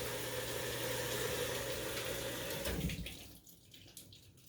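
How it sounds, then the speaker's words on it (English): Steady rushing water hisses through a Maytag washer fill valve alongside a low mechanical hum, then cuts off abruptly and fades to quiet. "A lot of water flowing."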